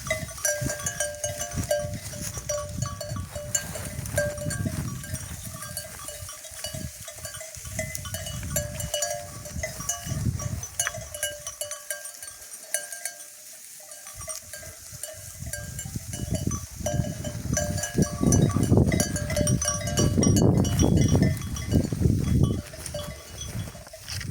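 A flock of sheep and goats grazes outdoors in the evening, with scattered bleats near and far, tinkling bells and soft shuffling under a steady rural background.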